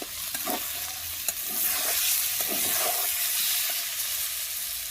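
Spices fry in hot oil for a sarputi fish curry, a dense steady sizzle close by, with a few light scrapes of stirring.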